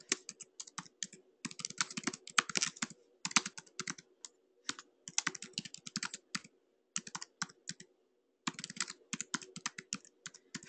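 Bursts of quick, close clicking from notes being typed on a computer keyboard, in uneven runs separated by short pauses, with no voices over the keystrokes.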